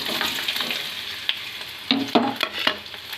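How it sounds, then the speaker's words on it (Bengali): Chopped ginger, garlic and onion frying in hot oil: a soft close sizzle with a few sharp spatula scrapes and stirs toward the end. "আদা, রসুন, পেঁয়াজ কুচি করে আমি গরম তেলে দিয়ে দিলাম।"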